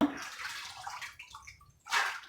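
Dry beans being rinsed and swished around in water in preparation for pressure canning, giving soft splashing and sloshing that fades briefly before a louder swish at the end, close and fairly quiet.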